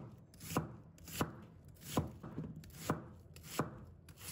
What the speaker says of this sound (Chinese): 先把头尾去掉，把它切成丝。